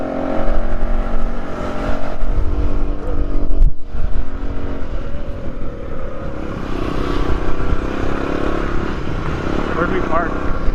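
A 1970 Honda Trail 90 (CT90) motorcycle engine running at a 4x4 swap meet, a steady loud close putter with shifts in revving, while people talk over it.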